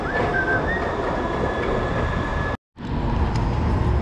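A city tram runs with a steady rumbling roar and a faint high whine, close and loud, briefly cut off for a moment before the rolling noise resumes; no one speaks.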